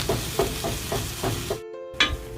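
Chopped garlic and onion frying in melted butter in a pan, a steady close sizzle broken by repeated soft stirring knocks, then a brief silent gap before the sizzle returns.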